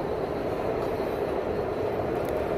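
A train in Washington, DC rumbles past steadily, a dense, even roar of wheels on rails with no voices.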